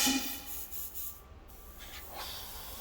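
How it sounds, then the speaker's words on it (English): A paint spray gun spraying thin mixed paint onto a Halloween canvas art piece gives a soft, continuous hiss for about three seconds, close but quiet, rising slightly toward the end, with no talking. "So you want to spray out a little bit at a time"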